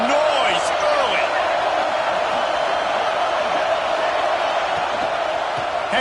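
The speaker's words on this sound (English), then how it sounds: "This crowd bringing the energy and noise early." A college football stadium crowd at Clemson versus Boston College keeps up a loud, steady roar with a few whistles and shouts on top, filling the whole stretch without a break.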